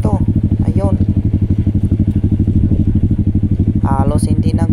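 A motorcycle labours along a steep downhill trail beside a ravine, its engine pulsing in a rapid, rough, loud rhythm with clattering, while a voice speaks briefly over it.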